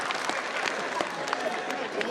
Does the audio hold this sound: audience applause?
yes